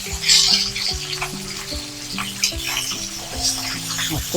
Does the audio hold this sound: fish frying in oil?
yes